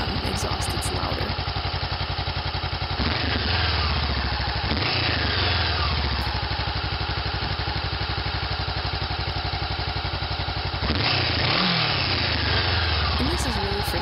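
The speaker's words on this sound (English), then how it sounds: "Next, let's listen to the exhaust." Stock exhaust of a Honda CB500X motorcycle, a steady throbbing idle close by with a few quick rev blips, the exhaust note fairly quiet.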